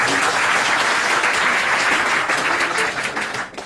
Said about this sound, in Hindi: मैं चाहूंगा इनके लिए जबरदस्त तालियां।